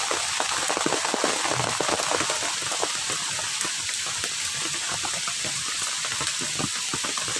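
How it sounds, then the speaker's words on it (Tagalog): Heavy tropical-storm rain pours steadily over a mangrove area near the sea, a dense, loud, continuous hiss with no pauses and no voices. "Ayan, ang lakas ng ulan in fairness."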